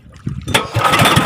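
An outboard boat engine on Laguna Lake sputters briefly, then catches and settles into a steady, loud running roar, close to the microphone.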